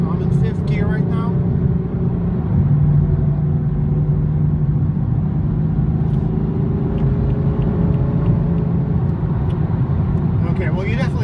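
A 2015 BMW M4 cruising in fifth gear, its engine a steady low drone with road rumble inside the cabin, continuous throughout, with a driver talking briefly at the start and end.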